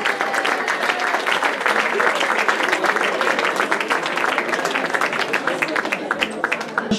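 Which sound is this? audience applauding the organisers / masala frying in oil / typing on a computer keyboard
audience applauding the organisers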